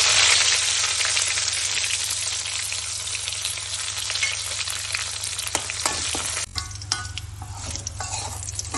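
Small sambar onions, dried red chillies and curry leaves sizzle and crackle loudly in hot tempering oil for a South Indian sambar, a steady dense frying hiss close by with occasional sharper pops and stirring, no voices.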